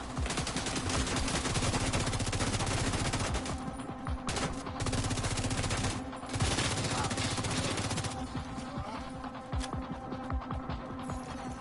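Sustained automatic gunfire from a shooter in The Division 2 rattles almost without pause, with dense rapid shots in long bursts and a few brief gaps, loud and close under a steady game hum.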